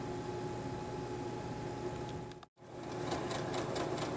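A Janome sewing machine running a straight stitch seam on fine fabric with a straight stitch foot, a steady close mechanical whir with a brief cut near the middle before the stitching resumes.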